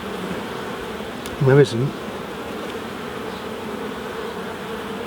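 Honeybees buzz steadily in an open hive during a colony inspection for queen cells, a continuous near drone with a brief louder burst as bees pass close, and a few quiet spoken words.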